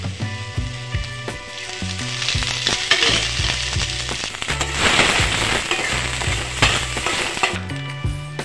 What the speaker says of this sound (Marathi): थोडंसं तेल टाकून घेणार आहे आणि कलर बदलेपर्यंत परतून घेणार आहे।